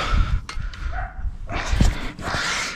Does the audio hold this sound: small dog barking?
yes